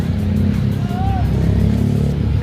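Motorcycle sidecars drive along a congested city street, their engines rumbling loudly and close with a brief rising whine, and voices talking over the traffic.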